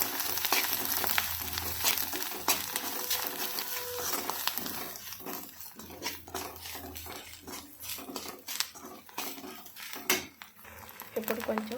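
Egg fried rice sizzles in a pan as chili powder is stirred in, with steady frying hiss and repeated scraping, clinking strokes of a spoon against metal, close and fairly loud.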